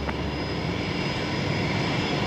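Airliner engines roaring at Brisbane Airport, a loud continuous broadband jet rumble heard steadily from nearby with no talk.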